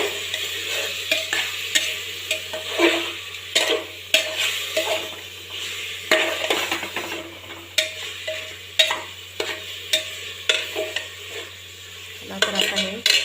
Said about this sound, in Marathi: आणि हे मीठ मस्त मिक्स करून घेऊ